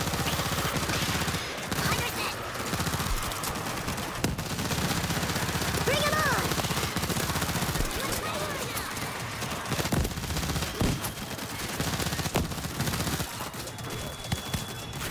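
Sustained automatic gunfire in the zombie shooter World War Z, a dense continuous fusillade with little pause, loud and close, with voices talking over it.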